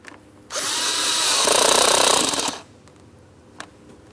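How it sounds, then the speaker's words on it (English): A power tool whirs loudly for about two seconds, tightening a hose clamp on the intake by the throttle body of a 2003-2007 Cadillac CTS. It rises in pitch and then cuts off, followed by a quiet pause and a faint click. "While holding pressure, I'm going to tighten my clamp."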